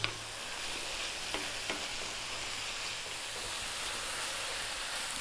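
Chili, cumin and smoked paprika fry in a pan, giving a steady low sizzle with a couple of light stirring taps, fairly quiet and even throughout.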